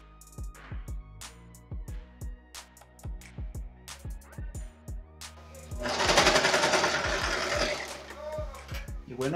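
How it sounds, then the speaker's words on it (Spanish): A sewing machine stitches the side and leg seams of men's jogger pants, its needle thumping in rapid regular bursts with short pauses, plus a louder hissing stretch midway. "vamos a coser el trasero con el delantero por los costados y por las piernas"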